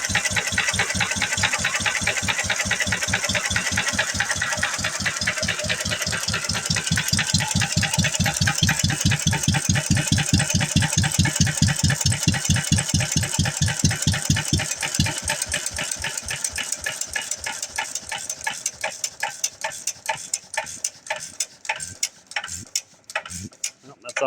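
A McCormick tractor engine runs loud and close after a cold start, with a rapid, steady diesel knock that holds for a while, then slows and turns ragged as it stutters toward stalling.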